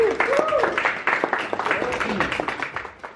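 Audience applause welcoming a product line manager at a Nike Invincible 3 running shoe launch event in Berlin, brisk clapping mixed with a voice speaking over it.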